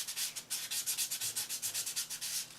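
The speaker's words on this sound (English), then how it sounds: "So you want to sand with the 400 until it's nice and smooth." Polymer clay bead being wet sanded with 400 grit sandpaper, a quick regular back-and-forth scratching rasp of about twenty strokes, close and clear with no talking.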